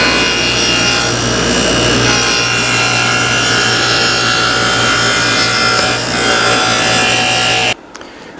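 A 3/4 inch dado set on a table saw cuts a groove through a trial piece of salvaged wood, a loud continuous whirring cut with steady blade whine that ends abruptly near the end.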